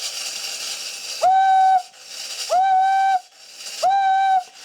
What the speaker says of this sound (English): And let's try this whistle.